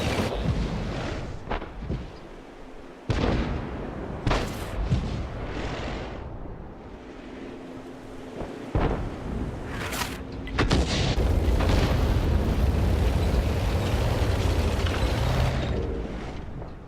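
Repeated heavy tank cannon shots in World of Tanks boom out at irregular intervals, loud and close, with rumbling engine noise and battle din building underneath, no talking.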